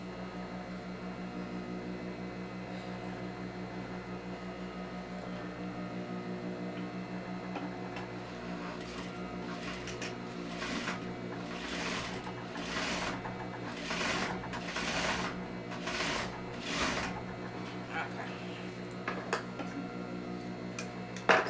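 A sewing machine stitches a zipper facing in a long, steady mechanical run with a ticking rhythm, close by and continuous, with louder rattling bursts partway through.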